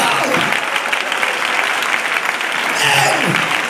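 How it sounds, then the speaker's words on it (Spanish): A church congregation gives loud, sustained applause during a preacher's sermon, steady dense clapping with shouted voices rising briefly over it. "que por favor le dé un aplauso fuerte"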